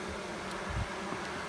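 Honeybees buzzing at an apiary hive, a faint, steady hum with a soft low thump midway, quiet and unbroken with no voices.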